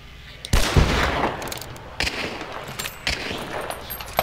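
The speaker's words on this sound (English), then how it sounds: "That's somebody else shooting." Gunfire in the video game Hunt Showdown: several distinct shots crack out at irregular intervals, the first loud and close with a heavy boom, later ones lighter and more distant, over a background of game ambience.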